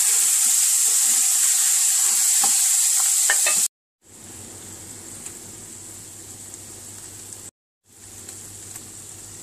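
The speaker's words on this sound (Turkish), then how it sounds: "Sotelediğimiz soğan ve biberin üzerine kıymamızı ekleyelim ve kıymamızı da kavuralım." Minced meat sautés over onion and pepper for a Turkish moussaka, a loud, continuous close-up sizzle with a bright hiss and occasional pops, briefly cut off twice.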